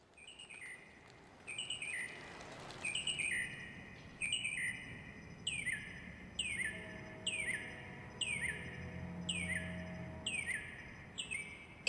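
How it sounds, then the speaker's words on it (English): Birds chirping and singing in Los Angeles, a quiet, steady bird repeating a bright phrase about once a second, with a faint low urban rumble beneath. "And I can hear the birds."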